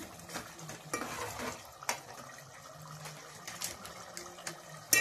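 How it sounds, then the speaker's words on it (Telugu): Snail curry with ground coriander and garam masala cooks in a pot, a quiet bubbling simmer broken by scattered spoon scrapes and clinks against the pot, with no voices. "ఎంత బాగా ఉడుకుందో చూడండి కూర"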